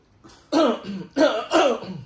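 Two or three sharp, harsh coughs close by, with a brief throat-clearing sound, and no talking.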